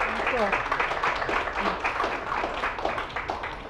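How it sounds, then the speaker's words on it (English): An audience applauds a guest on an evening podcast episode, a steady patter of clapping with some voices and cheers mixed in underneath. "Let's give her a round of applause for being here tonight."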